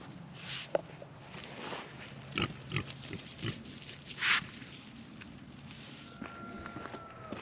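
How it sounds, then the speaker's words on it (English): Scattered low grunts and snorts come from close by over a constant hum, with a louder squeal burst partway through. "there's two pigs."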